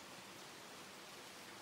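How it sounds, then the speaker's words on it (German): Rain in the Super Mario RPG video game makes a very faint, even hiss of falling drops, steady and unbroken for a short stretch. "So regnet."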